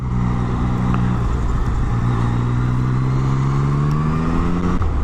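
A Yamaha XSR900 motorcycle engine drones steadily up close under heavy wind rush while riding, its pitch climbing gradually as it accelerates, then dropping briefly near the end.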